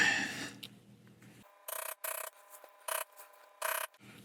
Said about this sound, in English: I just saw a spot that I forgot to bevel. So let's go get that real quick.